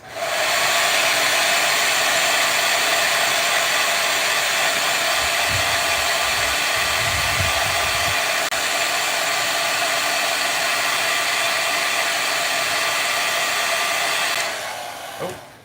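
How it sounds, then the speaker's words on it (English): A hair dryer runs loudly and continuously at close range, a steady whooshing hum that cuts off near the end. "So I'm gonna turn my hair dryer on."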